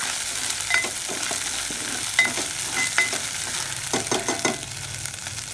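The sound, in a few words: frying ginger garlic paste for mirchi bajji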